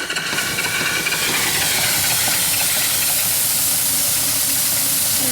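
Twin cylinder steam engine with a reverse boat boiler, fired with coal and fitted with a blower, running with a loud continuous steam hiss and a rapid, even mechanical chuffing underneath, close up.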